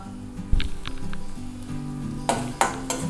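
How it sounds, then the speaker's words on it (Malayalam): Garlic, ginger and green chili go into hot coconut oil in a pan and crackle and sizzle close up, with a few sharp spatters and clinks of a utensil over a low background hum. "ചൂടായിരിക്കുന്ന ഒരു പാനിലേക്ക് ആവശ്യത്തിന് വെളിച്ചെണ്ണ ഒഴിച്ചു കൊടുക്കാം. ഇനി നമുക്ക് ഇതിലേക്ക് അരിഞ്ഞു വെച്ചിരിക്കുന്ന വെളുത്തുള്ളി, ഇഞ്ചി, പച്ചമുളക് എന്നിവ ചേർത്ത് കൊടുക്കാം."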